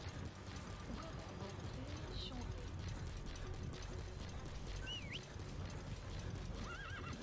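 A horse whinnies several times and its hooves clip-clop in Metal Gear Solid V The Phantom Pain, with mechanical clicking and continuous busy game noise underneath; the calls are fairly faint within the mix.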